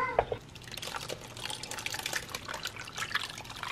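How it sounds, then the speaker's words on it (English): Water runs from a tap into a can, a faint, uneven splashing and trickling that fills the stretch without any talking, ready to be added to a beef stew. "I will fill up one of these cans here with water and add that into here"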